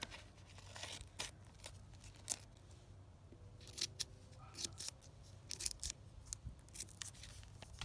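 Scissors snip a paper decoration for a round pumpkin, several quick, crisp cuts scattered irregularly at close range with light rustling between them and some quiet speech.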